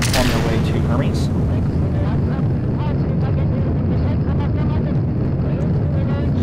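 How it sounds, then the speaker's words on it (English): Multi-engine Proton-style rocket launching in Kerbal Space Program, a loud continuous roaring rumble with crackling bursts that stays steady throughout, with no talk over it. "Yet another multi-engine Proton-style launch, which is totally a waste of money."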